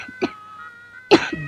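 A person gives a short throat sound, then after a pause lets out one loud, close cough that trails off briefly.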